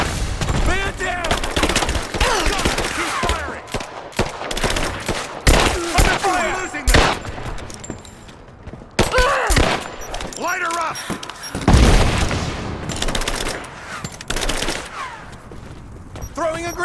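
Dense gunfire in a firefight from the video game Rise of the Tomb Raider, with bursts of automatic and single shots cracking nearly nonstop, loud and close, mixed with shouted voices.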